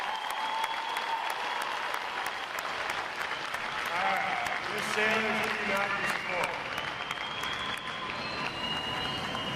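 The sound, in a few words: crowd applause at Navy boot camp graduation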